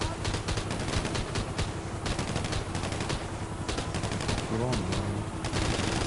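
Rapid automatic gunfire fills a GTA Online firefight, a dense, continuous rattle of shots from several weapons throughout, with someone talking briefly over it.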